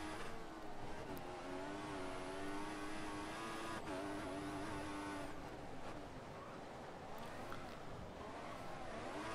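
Open-wheel race car engine in the F1 2014 video game at Monaco, driven by a Williams, holding a steady high whine with gear shifts and a brief drop near the middle, continuous and loud throughout.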